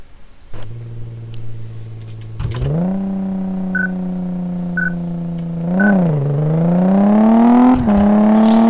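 A car engine revs in the racing game Car Mechanic Simulator on a quarter-mile run. The loud, steady droning tone climbs in pitch through several rising revs, briefly dips, then builds again, with no talking.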